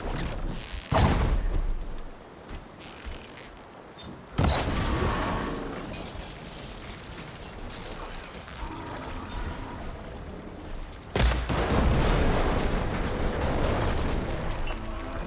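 Fire attack explosions in the Horizon Forbidden West video game: three sharp, loud blasts, each followed by a long roaring, crackling rumble of flames, along with background game sounds.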